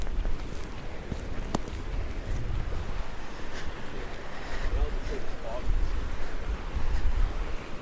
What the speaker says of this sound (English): As I walk along the river, I can hear the water rushing.